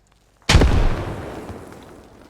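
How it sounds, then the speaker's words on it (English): A grenade blows up in the tactical shooter Squad with one sudden, heavy boom that rumbles and fades slowly over about two seconds, loud and close, with no voices. "That's an amazing grenade."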